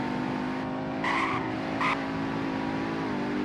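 A base-model convertible driving in the Roblox game Greenville, a steady engine drone with two brief tire squeals, heard alone and fairly loud.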